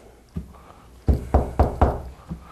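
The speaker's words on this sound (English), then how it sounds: "somebody was knocking on wood." Knuckles rap on wood on a stage at a motorsports event: six sharp, close knocks, a soft one, then a quick run of four, then a final lighter tap, with no voices.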